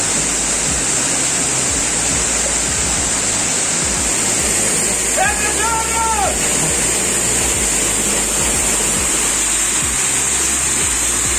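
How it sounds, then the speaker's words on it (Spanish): Jipiro Alto waterfall in Loja, Ecuador, a drop of about 20 to 30 metres, roars with a steady, loud, dense rush of falling water throughout, with a brief high tonal call rising above it midway. "Calculo que la cascada tendrá aproximadamente unos 20 a 30 metros"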